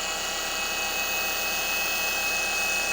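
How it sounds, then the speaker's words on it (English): An electric polisher runs steadily at its lowest speed over faded, oxidized plastic, a constant close whirring drone that never changes pitch and has no voices over it. "I keep it on the lowest speed. I'm just guiding the polisher"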